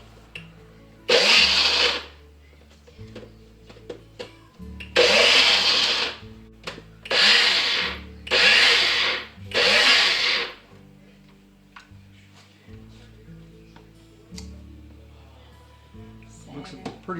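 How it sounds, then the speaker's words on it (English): A NutriBullet blender grinding pecans roars loudly in several bursts, each a few seconds long with short pauses between, and low background noise fills the gaps. "we have had this NutriBullet forever, so it's not the newest"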